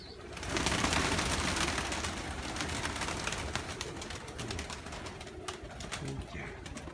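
Fighting pigeons coo softly in a loft, their steady, low murmuring running under a broad wash of background noise for about seven seconds.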